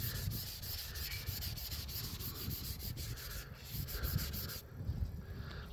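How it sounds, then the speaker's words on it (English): Steady rhythmic rubbing of wet sanding on the primed surface of an Aerotech Arreaux model rocket, close and moderately loud, with repeated back-and-forth strokes. "So far, I might just be all about this wet sanding."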